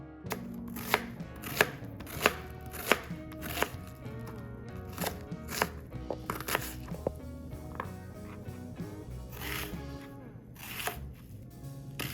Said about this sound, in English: So I'm going to start by just rough chopping the onion.